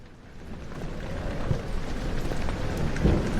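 Rain ambience in the horror video game Amnesia: The Dark Descent, a steady dense patter of rainfall with low rumbling underneath and a couple of soft thuds, continuous and enveloping.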